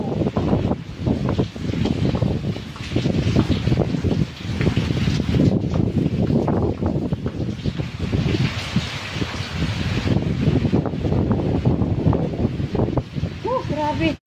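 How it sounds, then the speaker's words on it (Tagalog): Typhoon-force wind from a Signal No. 4 super typhoon roars loud and continuous into the microphone over the full stretch, while a person talks excitedly over the gusts. "grabe guys, ang lakas ng hangin dito."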